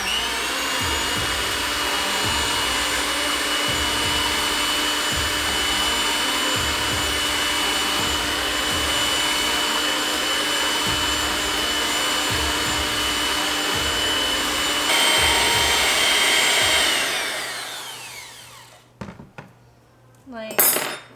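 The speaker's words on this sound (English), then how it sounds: "mix it until it looks like it's forming butter, and then smush it" An electric mixer whirs steadily through raw milk cream being whipped toward butter, a long continuous drone with rhythmic clinks of beaters against the bowl, then it cuts off and brief handling noises follow.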